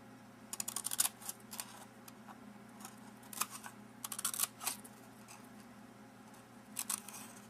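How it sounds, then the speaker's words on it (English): Scissors cutting slits into a cardboard toilet paper tube, heard as short bursts of crisp snipping clicks in quick clusters over a low steady hum, close and moderately loud. "So the shorter half, I'm going to cut slits."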